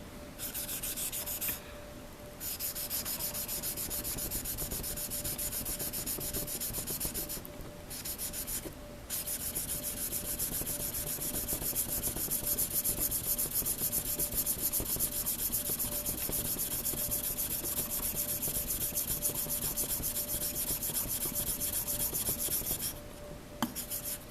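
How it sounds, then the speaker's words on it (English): An old paring knife is worked steadily against a sharpening stone, giving a continuous gritty rubbing and scraping that runs almost without pause, with a few brief breaks in the stroke, close and fairly loud. "brings out the abrasion to the surface, so it makes sharpening a lot easier."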